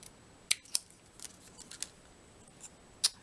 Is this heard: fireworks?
no